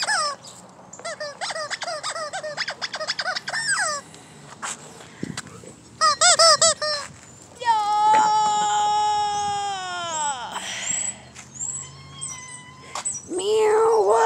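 Cat meowing close by amid bursts of high squeaking from new squeaky toys, with several drawn-out meows and someone talking now and then.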